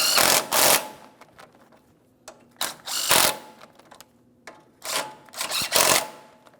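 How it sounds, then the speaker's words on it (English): A ratchet wrench tightens 17mm ball joint bolts and nuts on a 2003-2008 Toyota Matrix front hub. Repeated close bursts of rapid clicking are separated by short pauses. "we're going to start by tightening our 17mm bolts and then both of the 17mm mounting nuts afterward"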